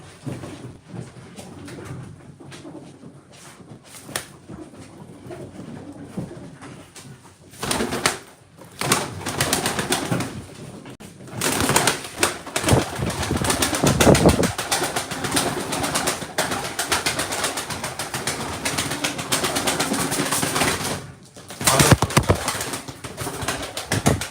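Pigeons coo steadily at close range in a loft of kept birds, with bursts of wings flapping loudly now and then over a continuous rustling background.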